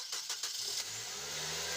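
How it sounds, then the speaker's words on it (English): A Nissan X-Trail T31 engine idling unsteadily with an idle-control fault, a steady close motor drone whose tone slowly drifts up and down after a few faint clicks at the start. "See, the idling is fluctuating, going up and down."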